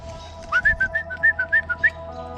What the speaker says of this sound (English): When you hear me whistle like that for the dogs, it's a stick around command.